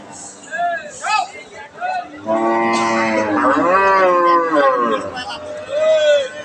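A Holstein Friesian cow moos several times, long drawn-out lowing calls up close, with people chattering in the background between and under the calls.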